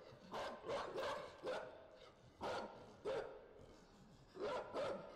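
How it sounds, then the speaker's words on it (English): Search dog in the video game Inside, giving a string of sharp barks in short bursts of two or three, moderately close and fairly loud, with no speech over them. "they have like a search dog right there."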